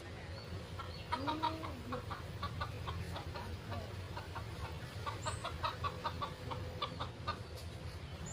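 Chickens clucking at a farm amid forest in rural Thailand, short repeated clucks scattered through a steady outdoor background, moderately near, with no talk.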